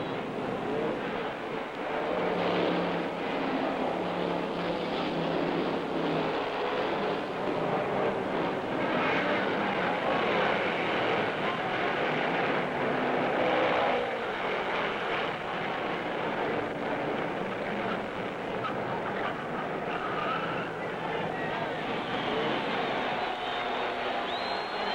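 Field of 1958 Indianapolis 500 race cars roaring at the start of the race, a continuous dense engine roar that stays loud and steady throughout, with some wind buffeting.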